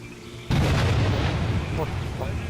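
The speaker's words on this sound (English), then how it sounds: "Explosion." A loud in-game explosion in Stalker Clear Sky bursts in suddenly, then a heavy rumbling blast lingers and rolls on for a couple of seconds with no voices.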